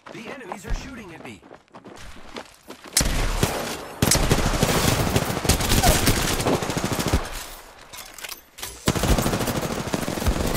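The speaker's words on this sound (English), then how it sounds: "The enemies are shooting at me." Enemy gunfire aimed at the player in a battle royale shooter game, rapid automatic bursts that come and go in loud stretches, close, mixed with other game sounds.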